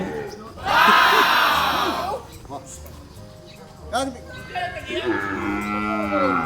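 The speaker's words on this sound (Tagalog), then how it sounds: "Kauna-unahang kalabaw na dumating." A carabao water buffalo lets out a loud, drawn-out moo up close, followed by shorter lowing calls, while people chatter around it at an animal market.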